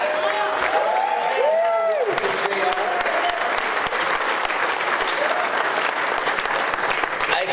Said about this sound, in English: I'd like you to stand up so everybody can give him a round of applause.